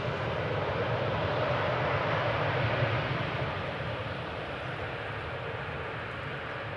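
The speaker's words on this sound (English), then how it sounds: "Sky Team 777 arriving from Willemstad, Curaçao." A SkyTeam Boeing 777 arriving at Amsterdam Schiphol Airport rumbles as a loud, broad jet roar that swells and then eases slightly as it passes, with no talk.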